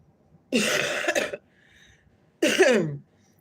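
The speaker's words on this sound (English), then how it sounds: "I'm still recovering from this cold a bit, so this cough is." Two harsh coughs from a person recovering from a cold, close to the mic, separated by a short pause, with near silence around them.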